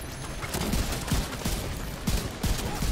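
Rapid bursts of video game gunfire, repeated sharp shots in an uneven rhythm over a noisy backdrop, fairly close and loud.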